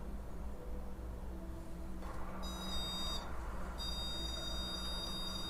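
A paranormal detection device gives short high electronic beeps in two bursts over a low, quiet room hum.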